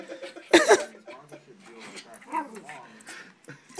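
A dog gives a sharp close bark, then softer whimpering and yipping sounds while people talk and laugh over it.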